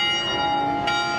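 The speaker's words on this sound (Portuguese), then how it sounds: "Os sinos também tocaram forte na Basílica de Nossa Senhora de Aparecida" Church bells ring loudly at the Basilica of Our Lady of Aparecida in São Paulo state, a sustained, resonant peal with layered overtones and one brighter strike near the end.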